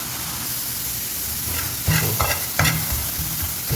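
Onions tempering in hot oil in a pan for an okra gravy, giving a steady close sizzle with a few louder stirring scrapes and crackles partway through.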